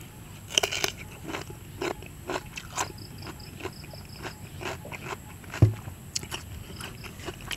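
Crunchy spicy jellyfish salad being bitten and chewed up close makes a series of crisp crunches and crackles at an irregular pace, with a few sharper bites standing out against quiet surroundings.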